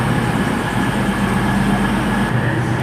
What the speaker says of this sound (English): terminating in now is a South West train service from London Waterloo, formed of a single 159